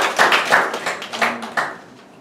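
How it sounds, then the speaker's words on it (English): Hands clapping from an audience at a Toastmasters meeting, a short burst of claps that fades over a couple of seconds, no talking. "we can give one more round of applause for Sam"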